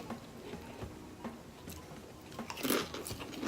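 A jalapeno-flavored chip is bitten and chewed close to the mic, giving a few soft, quiet crunches, with one louder, sharper crunch near the end.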